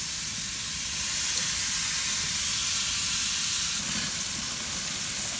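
Bacon-wrapped zucchini sizzling on a hot grill, giving a continuous close hiss and crackle that holds steady throughout without talk.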